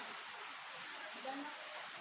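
Heavy rain pours down as a dense, steady hiss, with a few faint tones rising briefly within it.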